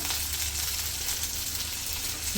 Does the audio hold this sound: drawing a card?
no